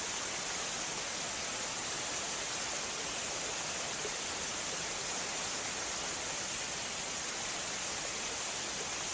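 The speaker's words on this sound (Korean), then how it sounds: "물줄기가 양쪽에서 쌍으로 내려와서 쌍폭포인가?" Twin waterfall in Mureung Valley on Dutasan mountain, its two streams pouring down in a dense, unbroken roar of rushing water, steady and close, with no voices.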